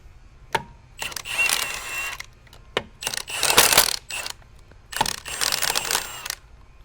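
A breaker bar with a socket works loose the wheel nuts on a Tesla Roadster, giving a few separate bursts of metallic clicking and grinding with quiet gaps between, close up and with no talk.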